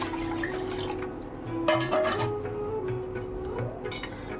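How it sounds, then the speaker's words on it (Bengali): Water pours steadily from a tap into a khichuri pot in a home kitchen, a close, continuous splashing flow that lasts a few seconds with small shifts in tone. "তো এখানে জলটা দিয়ে দিই এবার।"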